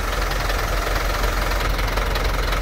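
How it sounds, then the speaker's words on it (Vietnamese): The diesel engine of a new JAC A5 truck runs close up, a steady knocking clatter with a constant low rumble and no talking over it. "Đây là cái tiếng xe động cơ du chai của xe Jack A5."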